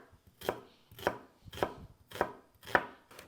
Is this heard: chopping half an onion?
yes